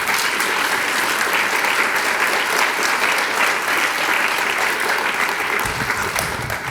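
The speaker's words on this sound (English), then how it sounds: "why don't you give them a round of applause?" An awards-ceremony audience breaks into loud, sustained applause, many hands clapping in a thick continuous wash that barely varies until it eases slightly near the end.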